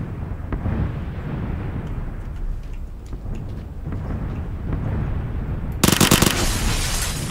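Gunfire in a three-player squad match of a video game: a busy, loud bed of game noise, then a sharp cluster of bright shots near the end.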